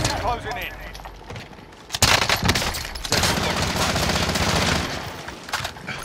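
Rapid automatic gunfire in the video game Call of Duty: Modern Warfare, loud bursts and sustained volleys with a sharp onset partway through, dense and continuous.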